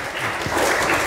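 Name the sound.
church congregation applauding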